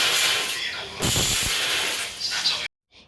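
A pressure cooker cooking lentils for bisi bele bath lets off a loud, close, continuous hiss of escaping steam that surges and then cuts off abruptly.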